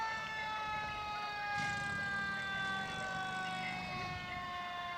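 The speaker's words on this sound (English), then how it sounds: "fire truck. You can hear the siren in the background." An old-timey fire truck's siren holds a steady, faint wail during a parade, heard from a distance over low street noise throughout.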